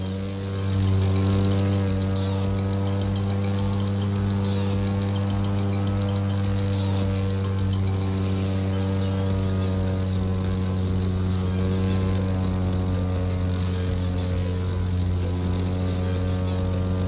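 Steady propeller plane drone in The Crew 2, flying low near trees, a loud continuous engine hum with strong harmonics holding evenly throughout with no talk.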